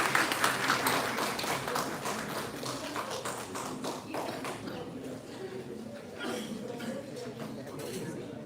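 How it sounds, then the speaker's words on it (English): A university audience claps for Professor Dr. Ivy Chung as she comes up on stage: dense, steady applause that lasts about eight seconds and eases off slightly toward the end. "I would request everyone to please give a round of applause."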